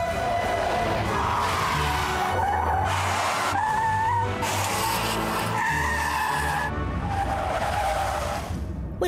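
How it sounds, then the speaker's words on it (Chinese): Six self-driving cars brake hard in sequence behind a human-driven flatbed truck during a highway following-distance test by a Korean carmaker; loud, repeated tire squeals and skids come in several long overlapping bursts, with no talk. "后方六台自驾车通通自动踩刹车"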